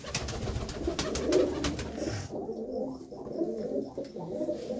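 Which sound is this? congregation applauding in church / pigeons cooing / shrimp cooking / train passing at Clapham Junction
pigeons cooing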